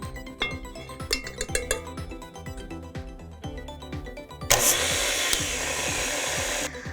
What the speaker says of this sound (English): So scrape it down, drop in more powdered sugar and mix.